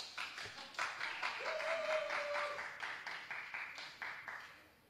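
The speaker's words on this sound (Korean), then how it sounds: "박수 안 칩니까?" Audience at a Korean Sunday church service clapping, a fairly faint, steady patter of many hands that swells and then thins toward the end, with a brief tonal sound partway through.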